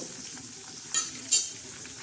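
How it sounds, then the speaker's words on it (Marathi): Curry leaves and garlic crackle in hot oil for a tadka: a soft, close sizzle broken by two sharp spitting pops in quick succession. "आपण हा कढीपत्ता आणि लसण याला छान असा तडका देणार आहोत"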